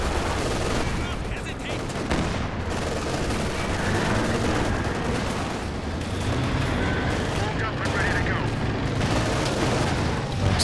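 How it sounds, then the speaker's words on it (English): Tank guns, including a Panther, firing in the Company of Heroes 2 strategy game, with dense booming shots and battle noise throughout, under continuous commentary. "Tank guns right there for the Panther."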